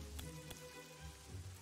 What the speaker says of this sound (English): it's raining even harder